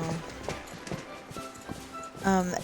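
Horse hooves clip-clop in a steady walking rhythm in the video game Disney Dreamlight Valley, followed by a short whinny near the end.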